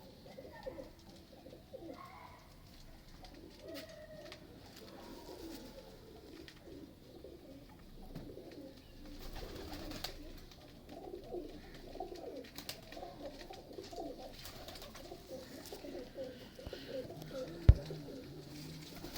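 Mistri-line fancy pigeons cooing softly in a loft, a continuous low murmur under someone talking, with one sharp click near the end.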